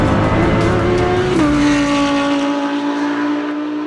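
GT4 race cars start a race, their engines roaring loudly and steadily together, with one engine note dropping partway through as the pack moves off.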